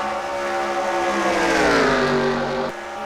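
Race car engines roaring past in a short-track heat race, one loud sustained engine note that sweeps upward as it nears, then drops away, with no talk.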